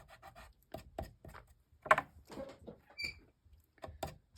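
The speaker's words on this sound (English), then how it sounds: "So we'll use my sand eraser, and hopefully that'll take that off." A sand eraser rubs ink off a card in short, quiet scrubbing strokes, repeated in an irregular rhythm at close range.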